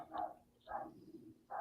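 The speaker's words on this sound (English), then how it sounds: "Sorry about the dogs." Dogs, including a Basenji Yorkie mix, bark indoors in three short, sharp yaps spaced apart, fairly faint and with no talk over them.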